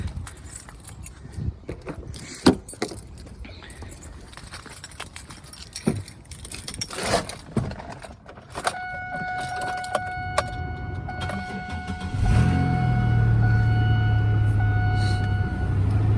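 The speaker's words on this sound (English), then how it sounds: "So now we'll go ahead, hop inside the vehicle and start it up" A Pontiac Grand Prix in snowy cold weather: keys jangle and click, a few thumps and rattles inside the car, then the engine cranks and settles into a steady, loud idle hum close by, with no talking.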